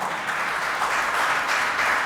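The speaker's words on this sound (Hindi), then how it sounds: "ताली बजाइए उनके लिए।" Applause from an audience at a Vedic medicine talk, a steady dense wash of clapping throughout, fairly loud and continuous with no talk over it.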